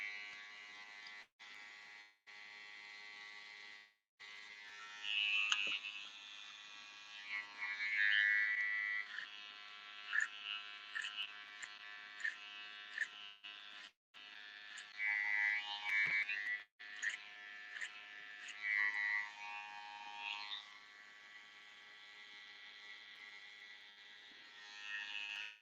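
Electric hair clippers buzz steadily while fading a neckline, a thin high hum that cuts in and out in short bursts and pauses, near and moderately loud, with no talk.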